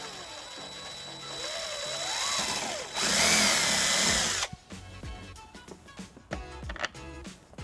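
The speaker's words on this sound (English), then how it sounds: "Using the bracket as a template, we're going to drill a 3/16 hole." A power drill bores a 3/16-inch hole through a metal four-flat trailer wiring bracket on a 2014 Kia Sorento bumper, whining with rising pitch for a few seconds, then a sharp loud burst, followed by clattering handling noises.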